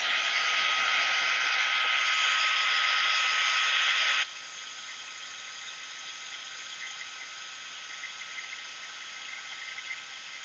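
Heat tool blowing hot air over freshly stamped ink on a floral card, a loud steady whir for about four seconds, then dropping to a quieter continuous hum.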